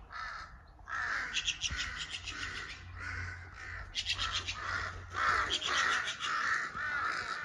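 Crows cawing outdoors in South Kashmir near an apple orchard in Shopian, harsh calls repeating in quick overlapping bursts through the whole stretch, fairly close and loud, with no talking.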